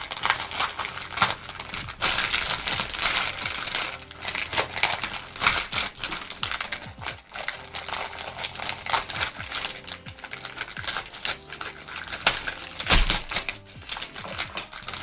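Scissors cut through crackly plastic packaging holding crochet handbag bottoms, giving irregular snips, crinkles and rustles close by, with brief pauses and a sharper crunch near the end.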